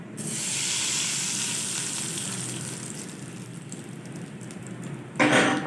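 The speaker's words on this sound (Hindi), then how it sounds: "तड़के को डालेंगे सूजी के बैटर पर" A loud, steady sizzle and hiss of hot tempering oil poured onto semolina batter, close by and slowly easing, with a brief clatter near the end.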